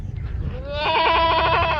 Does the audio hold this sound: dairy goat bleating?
yes